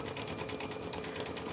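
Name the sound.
embroidery machine stitching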